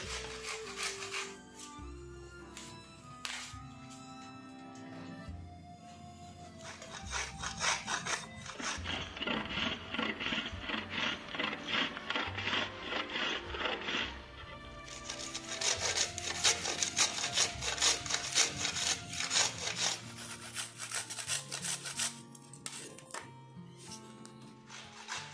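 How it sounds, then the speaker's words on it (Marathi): Fresh coconut is grated by hand on a metal grater. Close, steady rasping strokes run continuously in a quick rhythm, growing louder and denser at times. "किसून घ्यायचं मस्त पद्धतशीर."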